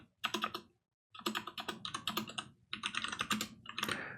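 Rapid typing on a computer keyboard during a terminal session: dense bursts of close key clicks, a one-second pause after the first burst, then steady continuous keystrokes.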